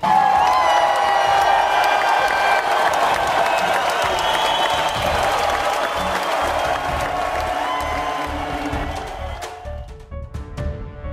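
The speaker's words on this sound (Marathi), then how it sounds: "टाळ्या करा त्याच्यासाठी." A crowd claps and cheers steadily for a man who has put on a safety jacket, with music and scattered voices mixed in; the applause thins out near the end.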